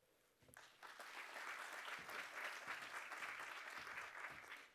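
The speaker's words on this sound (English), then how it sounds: "Can we get another round of applause for all our funders, accelerators, and platforms?" Audience applause at an AI and tech innovation conference, steady sustained clapping from a crowd for several seconds, fairly faint and distant, with no talk over it.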